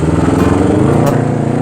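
A Honda CBR250RR motorcycle engine revs lightly during a night ride on a ring road in Jogja, giving a steady, loud, continuous buzzing drone with small throttle blips and no talk over it.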